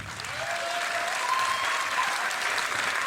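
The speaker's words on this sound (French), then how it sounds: "S'il vous plaît, applaudissez pour nos femmes et pour nos mamans." Sustained audience applause at a Congolese comedy show, steady and dense throughout with a faint whistle-like tone over the clapping.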